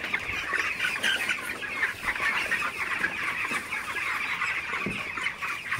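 A dense, crowded flock of broiler chickens in a poultry shed in hot, humid weather, clucking and chattering continuously, many overlapping calls at steady loudness, with no talking.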